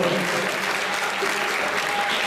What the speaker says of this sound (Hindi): सब लोग कर्तव्य गोली से ताली बजा कर स्वागत करें।